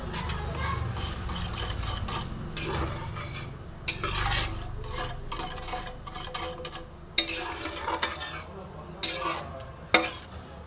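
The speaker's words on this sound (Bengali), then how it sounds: "এবার আমি একসঙ্গে সব মিশিয়ে নেব" A spoon stirs moong dal in a metal pot, scraping and knocking against the sides in a steady rhythm with a few sharper clanks, close by, over a faint sizzle.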